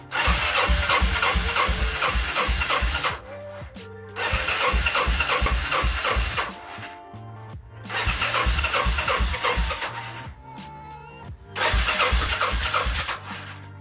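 A Kawasaki motorcycle engine, just back together after a carburetor repair, cranks loudly in four long starter bursts separated by brief pauses, turning over without catching.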